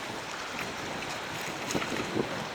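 Light breeze blowing steadily across a dry pier during a tropical storm, a soft even wind rush with faint microphone buffeting and no waves, alone with no talk.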